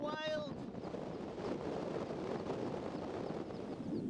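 Gusty wind on Rannerdale Knotts in the Lake District buffets the microphone with a steady, rough roar, after a brief tonal chirp at the start.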